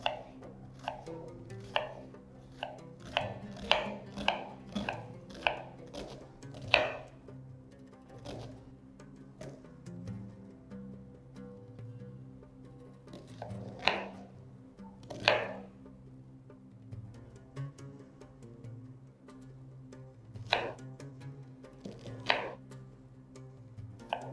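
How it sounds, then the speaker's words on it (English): Onions chopped finely with a knife on a cutting board for a Moroccan beef tagine with figs, a series of crisp close knocks in quick bursts separated by pauses, fairly faint and without talk. "Try to chop the onions as finely as you can so that they quickly melt into the sauce."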